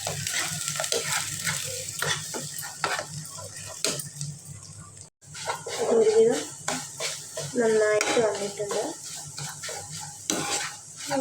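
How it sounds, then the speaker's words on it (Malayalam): Sausage with pepper being stirred in a pan, a spoon scraping and clinking against the metal in repeated strokes over a steady low frying sizzle, with brief talk in between. "കുറച്ച് പെപ്പർ ചേർത്ത് ഇതൊന്ന് ഇളക്കിയെടുക്കാം"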